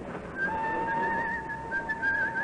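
A man whistles a tune, the clear sustained notes weaving over a busy, murmuring railway station crowd as a radio drama sound effect.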